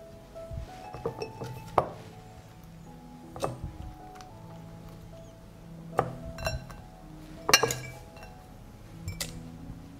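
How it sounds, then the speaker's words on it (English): Tomatoes are tipped into a cooking pot, with a few scattered clinks and taps of glass and dishware standing out sharply over a quiet kitchen background. "I'll add tomatoes."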